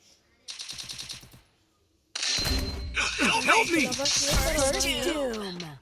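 Rapid gunfire bursts from a sniper shootout in a video game, a short clattering volley followed after a pause by loud sustained shots layered with voices and game effects.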